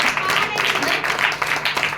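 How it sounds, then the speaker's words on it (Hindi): Congregation clapping hands during a Sunday church service, a burst of rhythmic group clapping mixed with voices, fairly close and lively for a couple of seconds. "ताली बजाकर उसकी महिमा कर सकते हैं"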